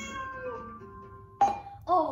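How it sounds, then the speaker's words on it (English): A cat gives two short, clear meows close by, following a sustained tonal sound at the start, with a brief gap between the two calls. "They are cats."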